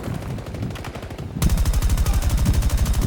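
Automatic gunfire in the Battlefield 2042 video game, rapid bursts of shots that grow louder and denser halfway through, a steady rattling stream close up with no talk.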